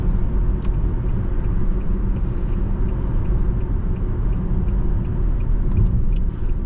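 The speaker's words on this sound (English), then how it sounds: "I think this is the fastest FX35 that I've driven. Just look at how good it picks up." A 2010 Infiniti FX35 AWD engine pulling under acceleration while driving, a loud steady low rumble with road and cabin noise, heard from inside the car without talking.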